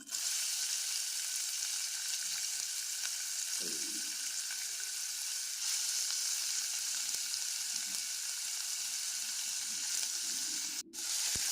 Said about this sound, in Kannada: ಎಣ್ಣೆ ಕಾದಿದೆ ಈರುಳ್ಳಿ ಹಾಕ್ತೇನೆ